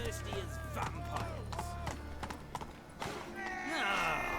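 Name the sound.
horse Roach galloping in The Witcher 3 video game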